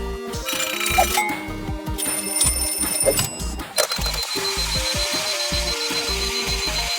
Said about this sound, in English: let's see how it competes with all of your other alarm clocks